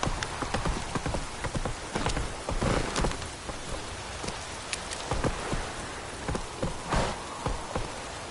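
Horse hooves clip-clopping through rain in a video game, steady close hoof beats in a quick rhythm over a continuous patter of raindrops, with no talk.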